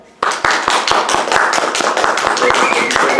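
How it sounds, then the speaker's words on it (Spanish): Audience at an illustration talk at an expo clapping in a brisk, steady rhythm of close hand claps that starts abruptly and holds at an even level for a few seconds. "Así que un aplauso para él."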